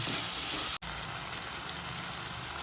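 Tomatoes sauté in a pan for bhindi do pyaza with a continuous close hiss and sizzle, broken once by a very short dropout near the start, then steady again with no talk.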